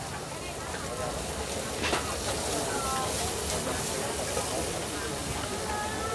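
Batter for Singapore-style khanom khrok drops into a hot multi-cup snack pan at a Thai market, making a steady, broad, close sizzling hiss that lasts throughout while someone talks over it.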